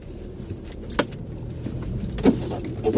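A car turns around on an unplowed residential street under four to five inches of snow, with a low engine rumble, tires crunching through the snow, and a few brief clunks.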